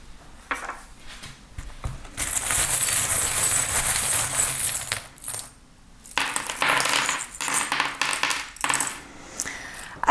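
Small metal divination charms tumble and clatter onto a surface in a dense, jingling burst lasting several seconds, followed by a pause and then a second run of lighter clinks and rattles, close and fairly loud with no talking.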